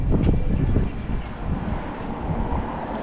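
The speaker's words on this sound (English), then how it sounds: "it's warm and windy" Warm wind blows steadily into the microphone in southern Taiwan, a loud rushing roar that gusts stronger at the start and then settles.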